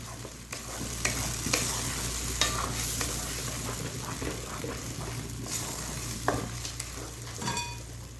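Bread halwa is stirred in a pan over low heat, soft scraping and shuffling strokes of a spoon over a gentle sizzle, with a few sharper clinks, quiet and close with no voices.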